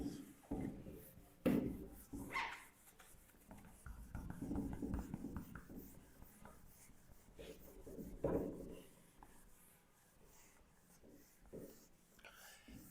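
Chalk or marker scraping and rubbing across a classroom board during a geography lesson, soft intermittent strokes with a few louder scrapes, recorded fairly close in a quiet room.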